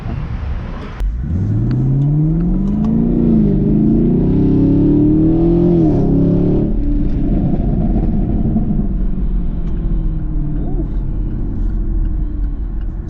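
Chevrolet Camaro engine revving at a dyno session, a loud close rumble that climbs steadily in pitch for several seconds, then drops back to a lower sustained roar.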